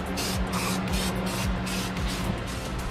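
Spray paint can hissing onto a Jeep Grand Cherokee frame after welding stiffeners, a steady loud broadband hiss filling the whole stretch, close and continuous with faint low background hum.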